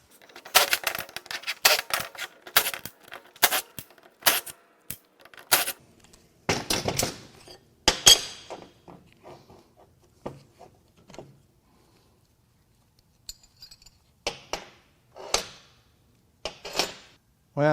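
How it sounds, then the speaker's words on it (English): Sharp metallic clicks and clinks of parts being handled while a Honda Civic 1.7L D17 oil pump is taken apart, a fast cluster of close taps at first, then sparser knocks with quiet gaps. "Let's take this oil pump apart."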